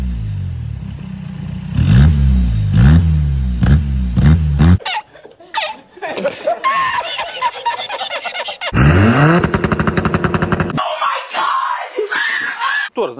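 A diesel VW Passat B3 with an AFN engine revs hard in loud, rising bursts punctuated by sharp backfire pops, with shouting and laughter mixed in nearby.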